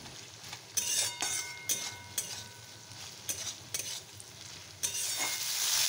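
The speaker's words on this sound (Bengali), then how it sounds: "আমি পেঁয়াজটা ভাজা বসিয়ে দিয়েছি" Onions fry in a pan, a steady sizzle broken by repeated scraping stirs and light clinks of a utensil against the pan, close and without talk.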